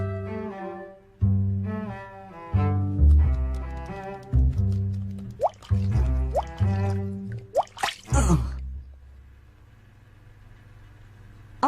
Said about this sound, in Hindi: मुझे ये टपकना बंद करना ही पड़ेगा।